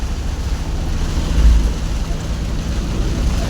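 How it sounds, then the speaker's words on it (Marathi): Heavy rain pours outdoors near Kurul, a steady dense hiss with a low rumble of wind that swells briefly midway; no one speaks. "तुम्ही बघू शकता की किती मोठा पाऊस चालू आहे"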